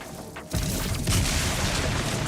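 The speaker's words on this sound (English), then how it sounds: "Hit him with a spread launcher." Spread launcher fired in the Borderlands video game: a sudden booming blast after half a second of quiet, followed by a sustained, dense roar of explosive noise that stays loud to the end.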